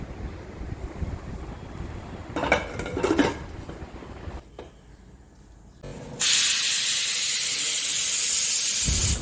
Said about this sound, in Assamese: এটা চিটি মাৰি দিলে ৰেডি হৈ যাব